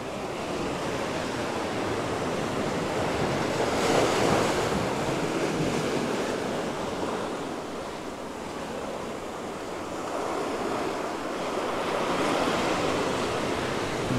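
Ocean surf breaking and washing onto a beach among huge boulders at Paraty, Brazil, a steady broadband roar that swells and recedes in slow waves, with some wind buffeting the microphone and no voices.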